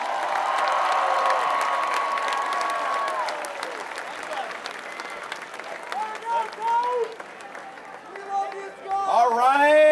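Dense crowd applause at a Baylor men's basketball parade presentation roars at the start, then thins into scattered clapping and cheering with some whoops and voices rising near the end.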